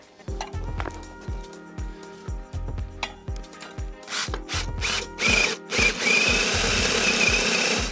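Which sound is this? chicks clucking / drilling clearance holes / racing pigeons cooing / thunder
drilling clearance holes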